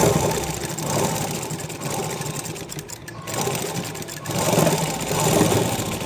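Electric sewing machine stitching blouse fabric, with a fast steady mechanical whir and rapid needle clatter, close and loud, pausing briefly before running again.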